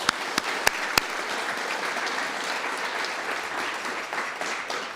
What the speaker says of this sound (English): A round of applause for our Board of Directors.